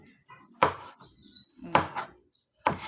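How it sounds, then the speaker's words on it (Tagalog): A knife chopping a tomato for salad on a cutting board: three sharp, separate chops spaced about a second apart, close and clear, with faint background sounds between them. "Arato ang kamatis para sa atong salad."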